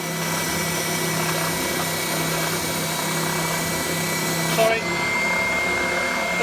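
Clarke COEBS1 belt and bobbin sander running on MDF with a shop vac attached, a loud continuous whine and motor roar that stays steady throughout, with a brief change in tone near the end.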